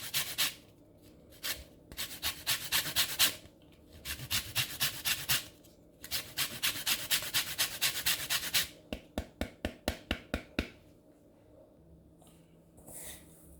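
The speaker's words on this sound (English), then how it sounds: "gonna add a bit of lemon zest in" A lemon is rubbed against a grater for zest in tinned salmon and sweet potato fish cakes. Long scraping rasps come in bursts, then quick rhythmic strokes, close and fairly loud.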